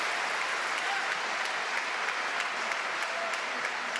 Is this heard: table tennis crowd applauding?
yes